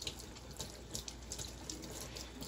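Tap water running at a sink while a hog's hair paint brush is washed with a bar of soap, a soft continuous stream with light splashes and brushing, quiet and close, no speech.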